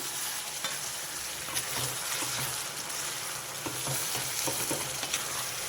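Chicken gongura curry is stirred in a hot pan, a steady sizzle and frying hiss under repeated scraping strokes of the spoon, close and fairly loud throughout.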